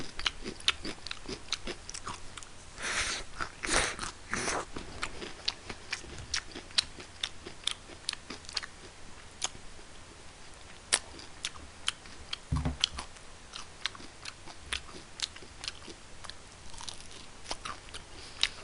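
Crunchy Nene Snowing fried chicken bitten and chewed up close, a steady run of sharp crackling crunches with a few louder bites over about eighteen seconds, no talking.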